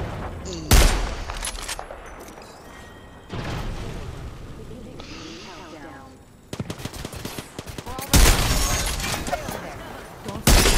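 A video game turret fires in loud, rapid bursts of gunfire, several separate volleys spread across the stretch with quieter gaps and crashes between them, with people talking over the shooting.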